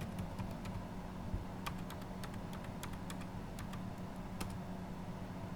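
Rapid keystrokes on a computer keyboard during accounting software setup, with clicks spread irregularly across the clip and a few sharper presses standing out, steady over a low background hum.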